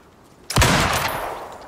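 A single burst of rifle gunfire in the survival video game Icarus, a sudden loud blast with a dense crackling tail that fades over about a second, no talking.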